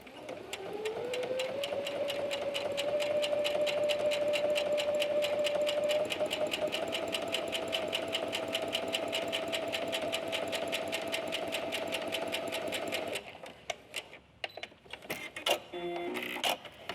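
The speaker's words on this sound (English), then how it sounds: "you are going to sew 1/4 of an inch away from that stitch" Sewing machine running a second row of stitches a quarter inch from a seam in ponte knit, a loud, steady whirring hum for about thirteen seconds before it stops and leaves a few light clicks.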